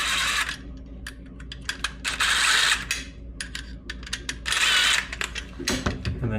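Screws being loosened on the upturned mounting assembly of a kitchen garbage disposal give close, rapid ratcheting and metallic clicking in several bursts, with brief pauses between turns.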